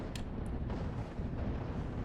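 Battle explosions from the WWII Normandy strategy game Steel Division: Normandy rumble in a continuous heavy barrage, with deep booms and a couple of sharp bursts layered over each other.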